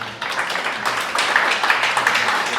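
A church congregation applauds, a dense burst of clapping from many hands at moderate loudness, with voices mixed in.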